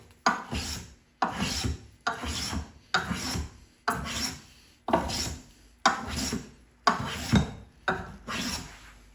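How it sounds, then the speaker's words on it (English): A hand block plane shaves a wooden workpiece to clear burn marks left by a table saw, making eight steady, evenly spaced rasping strokes, close and crisp with short pauses between them and no talk. "you can just go ahead and use it as a hand plane"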